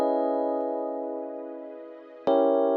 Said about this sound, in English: So here's the chord progression right here.